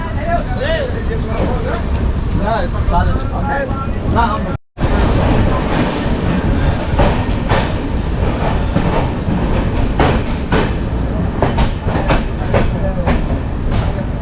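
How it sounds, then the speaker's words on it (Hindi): The Swatantrata Senani Superfast Express pulls out of a station with steady rail rumble and repeated clickety-clack of the wheels over joints, loud and close, with a brief dropout partway through and crowd noise faintly underneath. "चलिए आपको मैं दिखाता हूँ इस ट्रेन के यहाँ से डिपार्चर"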